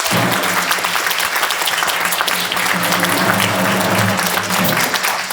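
At a song contest, an audience applauds a band as it is welcomed, producing dense, steady, loud clapping that continues throughout.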